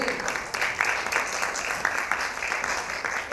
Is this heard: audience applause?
yes